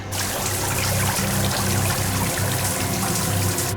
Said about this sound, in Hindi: सर, सबमरीन में दरार आ गई सर। पानी तेजी से नीचे आ रहा है।